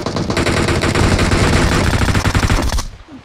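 Rapid automatic gunfire in PUBG Mobile, loud and close, a dense burst of shots running for nearly three seconds before cutting off abruptly.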